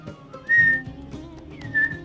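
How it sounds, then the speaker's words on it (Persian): A person indoors whistles a short tune, with two clear sustained whistled notes about a second apart over quiet room noise and faint background sounds. "میشه اینجا سوت نزنی؟"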